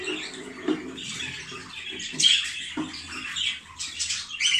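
Pet birds kept in a cage at home alongside eggs and chicks give off scattered squawks and sharp chirps of varying loudness, heard close up along with light rustling and fluttering and no talking.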